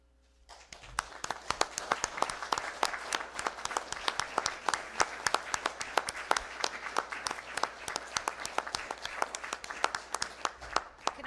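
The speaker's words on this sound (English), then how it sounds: "Can I just ask everybody to stand up and give him a round of applause" A standing audience at a Pleasant Valley town board meeting breaks into applause, starting from near silence and swelling into sustained, fairly distant clapping with distinct individual hand claps popping through the steady patter.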